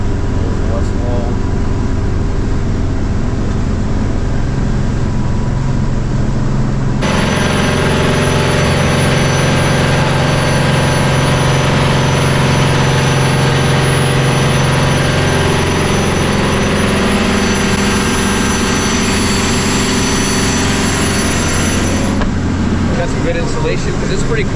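The engine of a 35-foot Swift Trawler yacht drones loudly and steadily while underway in Charlotte Harbor, a constant mechanical roar with a sharp jump in intensity partway through, heard from inside the cabin.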